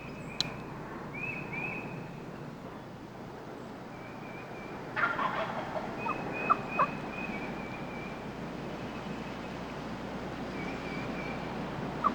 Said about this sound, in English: All of that gobbling is what brings the hens to him.